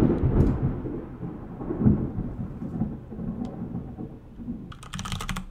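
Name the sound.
thunder outside a window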